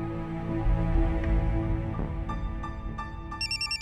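A phone ringtone for an incoming call in a home scene from a Hindi TV serial. A repeating, bright electronic melodic tone rises in the second half over a soft musical background, with no voices.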